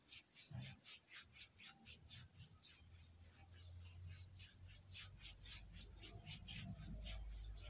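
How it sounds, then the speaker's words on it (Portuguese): Ultrasound gel rubbed over the neck in an ASMR role-play exam, soft close rhythmic rubbing strokes repeating steadily at low volume, with a faint hum building underneath. "Tem que esfregar bem esse gelzinho, senão a nossa ultrassom não consegue ler bem os tecidos do seu corpo"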